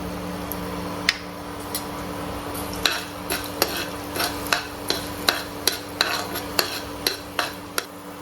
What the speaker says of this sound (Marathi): त्यात आता हा जो खडा मसाला आहे तो मी अगदी थोडासा भाजून घेणार आहे